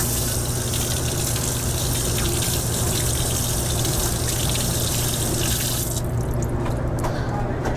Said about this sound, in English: Rinse the filter with cool water.